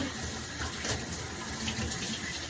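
Shower water runs steadily, a continuous close hiss of spray falling in a bathroom, with no voices over it.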